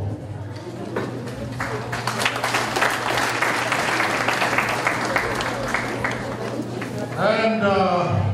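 Guests at a wedding reception in Calgary break into sustained, dense applause that swells and holds for several seconds, with a low hum underneath and a voice speaking as it fades.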